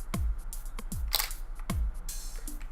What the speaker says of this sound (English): you guys saw how fast that mirror went? That mirror is the shutter speed taking action.